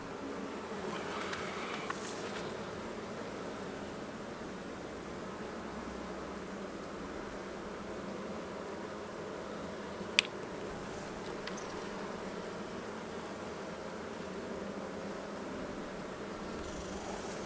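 Honey bee colony in an opened hive during an April inspection in Minnesota, a dense continuous buzzing drone that stays close and steady throughout, with one brief sharp click partway through.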